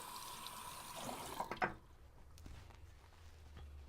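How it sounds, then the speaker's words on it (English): A Cerax 1000 whetstone is rinsed under running water, a hissing flow that ends with a splashing clatter before fading to quiet room tone. "Gave that a quick rinse and back in the water it goes."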